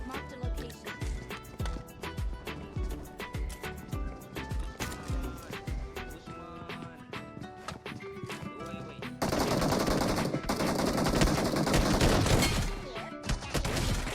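Shotgun and automatic gunfire ring out in a shooter video game fight, with rapid close bursts of shots followed by a denser, louder stretch of sustained firing, and no talk over it.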